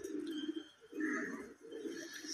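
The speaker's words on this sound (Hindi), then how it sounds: "हर तरह के कबूतर है इसमें, बहुत बढ़िया बढ़िया नस्ल के" Several pigeons of fancy breeds coo inside a loft, three soft rounded phrases in a row, fairly close and otherwise quiet.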